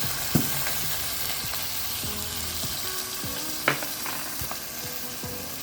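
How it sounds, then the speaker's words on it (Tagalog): A pot of meat boiling in water for kare-kare bubbles and sizzles steadily, with occasional sharper pops and a few clinks of a utensil against the pot. "kumukulo na yung tubig ng ating karne"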